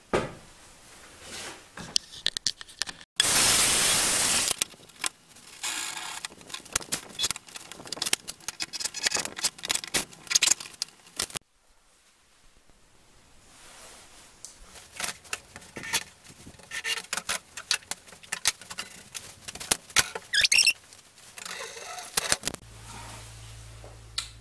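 Wood is being cut and screwed while a table saw jig is built, heard as a burst of loud cutting noise followed by irregular knocks, scrapes and short driving sounds, close by and with no speech.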